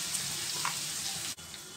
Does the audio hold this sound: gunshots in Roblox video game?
no